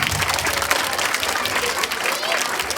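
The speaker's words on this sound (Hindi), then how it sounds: "उनके लिए भी जोरदार ताली बजा दीजिए।" A school annual day audience claps for the teachers, loud and continuous crowd applause that keeps a dense, steady patter throughout, with some voices mixed into the crowd.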